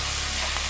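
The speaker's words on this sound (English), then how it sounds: "then you just fry it until your desired doneness" Vegetables fry in a wok for a homemade spaghetti stir-fry, making a loud, continuous broadband sizzle with a steady low hum underneath, brief and close.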